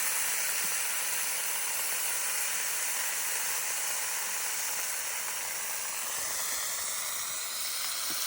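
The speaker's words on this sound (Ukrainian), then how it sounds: "хай смажиться все" Mushrooms, including russulas, fry in a hot pan, sizzling and crackling steadily in a continuous close hiss with no talking.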